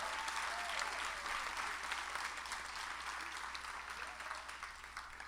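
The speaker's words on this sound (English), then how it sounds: "Let's give them a round of applause" An audience at a performing arts show gives a round of applause for the production team, with dense, steady clapping from a sizeable crowd heard at a moderate distance.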